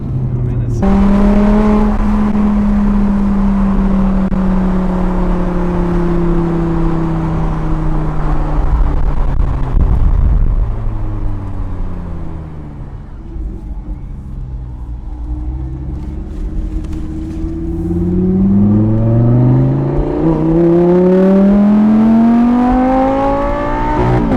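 A twin-turbo Audi R8 V10 accelerates hard, its engine and exhaust rising in loud, sweeping tones, easing off, then climbing through the gears again, heard close from inside the car with a little talk.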